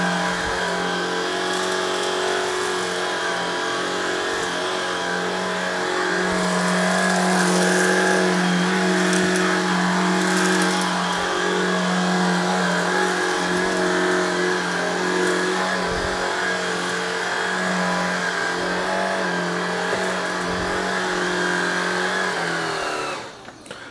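A Shark IZ362H Power Fins cordless vacuum sweeps a floor and picks up kitty litter, its motor holding a loud, steady whine that swells slightly in the middle and stays constant for over twenty seconds before cutting off, with no voices.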